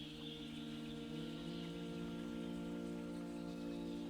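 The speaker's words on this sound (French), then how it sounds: "au murmure apaisant de la pluie qui continue sa danse sur les carreaux de la librairie" Soft, steady rain patters against the windows of a bookshop in a calm sleep-story ambience, a faint continuous wash with no pauses and no talking.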